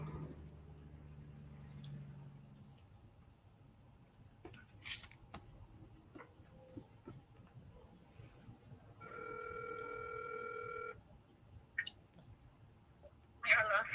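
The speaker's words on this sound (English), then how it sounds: "let me call Sugar Mama back because she called in" A telephone call being placed gives a steady dual-tone ring or dial signal lasting about two seconds midway, with faint clicks and handling noises around it and a low hum at the start, all fairly quiet.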